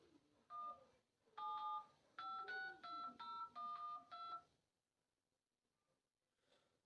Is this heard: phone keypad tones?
yes